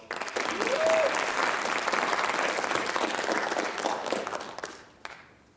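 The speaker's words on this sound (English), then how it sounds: "Give her a round of applause." A crowd at a writers expo breaks into sustained, even applause, full and close, with a brief voice rising over it near the start, before the clapping fades out at the end.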